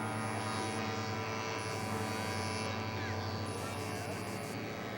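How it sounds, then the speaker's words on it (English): A scale model aircraft taxis out at an air show, its engine a steady, continuous drone that holds level throughout, with faint voices in the background. "Dave Kephart taxiing out."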